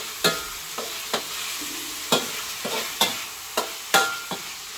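Pork and cauliflower being stir-fried in a wok, with about ten sharp spatula scrapes against the pan at an uneven rhythm over a soft, steady sizzle.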